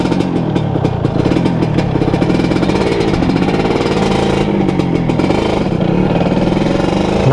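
Old Honda Nova Dash two-stroke motorcycle revving while being ridden, a loud, buzzing, rapidly pulsing engine note that rises and falls with the throttle throughout.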